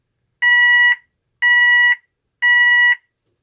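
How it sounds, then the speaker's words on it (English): Klaxon Nexus 110 fire alarm sounder emitting three identical loud electronic tones, each about half a second long with even gaps, steady and piercing with no talk. "This is a fire alarm."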